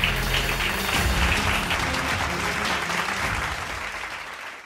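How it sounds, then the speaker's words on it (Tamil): Church congregation applauding during a Tamil sermon service, a dense steady clapping that fills the clip at close range and fades slightly toward the end, with no talk over it. "கைதட்டுங்க ஒருத்தர்."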